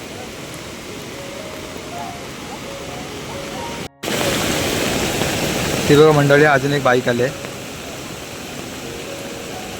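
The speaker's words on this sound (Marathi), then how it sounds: "एवढं फोर्सने पाणी चाललंय" Floodwater from a monsoon-swollen village river in Konkan rushes hard over a bridge, a loud, continuous broadband roar throughout, with someone talking over it and a short dropout partway.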